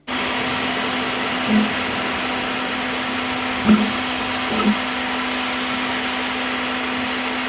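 A steady machine hum from a Creality K1 3D printer, with a constant whirring cooling-fan drone and faint high whine, with a few soft mechanical clicks and bumps along the way.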